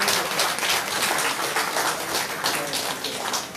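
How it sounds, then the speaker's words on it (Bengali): An audience at a book festival gathering in southern Bengal claps together in a dense, continuous burst of applause that holds steady throughout. "আসুন না একটু হাততালি দিই আমরা।"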